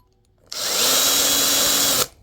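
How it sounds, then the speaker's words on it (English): A power drill whirs steadily at close range for about a second and a half, drilling a hole during the rebuild of a 51-inch TFL Ariane twin brushless RC boat, starting abruptly and cutting off cleanly, with no voices. "Drill a hole in it."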